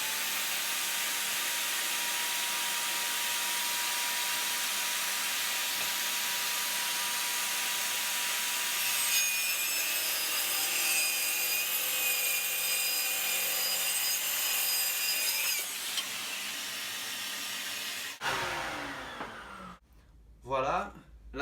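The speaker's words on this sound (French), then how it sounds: "entre la scie circulaire et l'aspirateur, on ne va plus rien entendre" A circular saw cuts through wood while a workshop vacuum runs alongside, making a loud, steady roar with a high whine that holds for most of the stretch. The noise cuts off near the end, leaving brief clatter and handling sounds.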